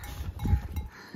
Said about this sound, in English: Mom's sheep are all here. She has a full herd of sheep.